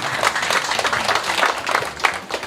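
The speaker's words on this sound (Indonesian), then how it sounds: "Mari tepuk tangan untuk semua" A crowd applauds at an outdoor village campaign rally in Kaprus, Papua, with loose, uneven clapping that rises and dips over a couple of seconds.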